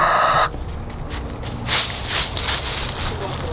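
A chicken clucks in short, close bursts against outdoor rustling, with people talking nearby.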